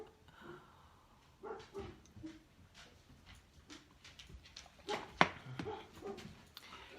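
Macy the dog barking outside on a wooden deck, a handful of scattered barks and yips at moderate distance with quiet pauses between them and one sharper, louder bark near the end.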